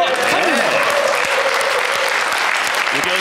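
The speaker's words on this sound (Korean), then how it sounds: "왼쪽 벤치에서 모두 환성과 박수가 나오고 있습니다." Cheering and steady applause from the team bench at a carom billiards match, loud and continuous across the whole stretch with commentary-like voices mixed in.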